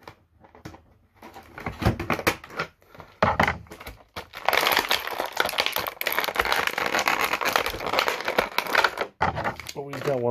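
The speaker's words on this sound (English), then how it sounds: "I actually got scissors with me this time." Scissors snip and tear through plastic and cardboard toy packaging of a boxed action figure, giving bursts of crackling, crinkling cuts close by, with brief talk in between.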